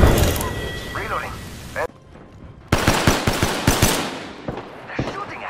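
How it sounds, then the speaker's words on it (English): Gunfire in the video game Apex Legends, dense bursts of automatic shots, then a short gap and a run of sharp, evenly spaced cracks, loud and close with voices heard over the shooting. "They're shooting at me."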